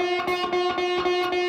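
An electric guitar with distortion holds a sustained, bent blues-rock note, loud and buzzing, with a faint pulsing wobble running through the steady tone.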